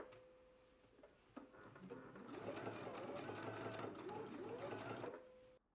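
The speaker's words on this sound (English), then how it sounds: "then you will baste the inner raw edges together" A sewing machine bastes the raw inner edges of a fabric flower together in one steady, close whirring run of about four seconds, which starts after a few soft handling clicks and stops abruptly.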